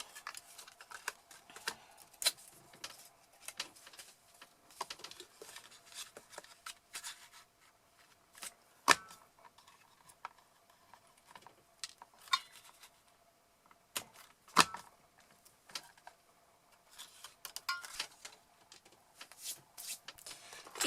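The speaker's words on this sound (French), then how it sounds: "je vais utiliser donc ma perforatrice arbre de vie et je vais découper cette petite fleur qui se trouve ici" Small paper flowers are cut with a tree-of-life paper punch, giving faint, sharp clicks and snips at irregular intervals, with rustling of paper between them in a quiet room.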